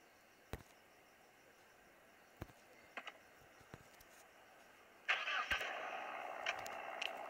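Car engine in Car Simulator 2, a few faint clicks and taps, then the starter catches and the motor fires up into a steady mid-pitched idle, quiet and close, with no voices.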